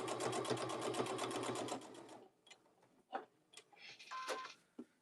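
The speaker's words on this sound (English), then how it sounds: "I'm going to back stitch again and just go right back around until I meet my stitching again" Sewing machine back-stitching around a thicker section where a pocket is sewn in, running steadily for about two seconds, then stopping, followed by scattered handling clicks and rustles.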